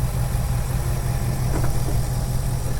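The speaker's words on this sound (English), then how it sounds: "This engine is such a masterpiece. 5-liter goodness, all American." A 2024 Ford Mustang GT Premium with its 5-liter engine runs at a steady idle, a continuous low rumble with no revving, heard alone.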